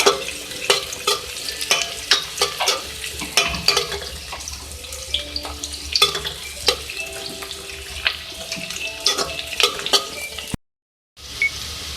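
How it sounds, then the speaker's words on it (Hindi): A teaspoon of whole cumin seeds fries in oil with onions in a pan, crackling and sizzling close by while a spoon stirs in quick scraping strokes. The sound drops out briefly near the end, and no one speaks. "1 टीस्पून साबुत जीरा है, इसको भी फ्राई कर लें"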